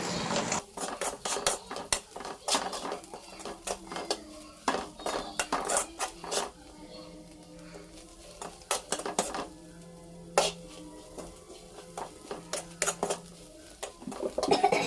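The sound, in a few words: stirring beef curry with spices in a pot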